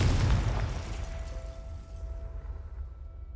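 A Confringo fire spell explosion in Hogwarts Legacy, a loud close blast at the start that rumbles and fades away over a few seconds, with no speech over it.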